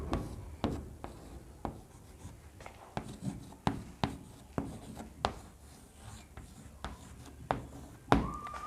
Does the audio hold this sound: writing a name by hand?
yes